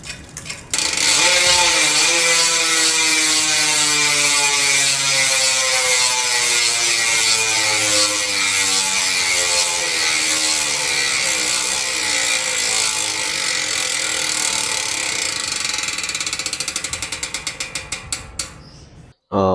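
Speedone Sniper V3 bicycle rear hub on a thick aluminum frame clicks in a loud, fast ratcheting buzz as the freewheel spins, slowing gradually into separate clicks near the end.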